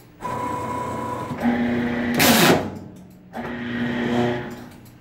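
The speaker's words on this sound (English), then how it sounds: "I'll go ahead and hit reset and just do the cut" An EC19 PRO V2 cutting machine makes a cut, its steady motor whine running in two loud stretches with a harsh, noisy burst of cutting between them, close by.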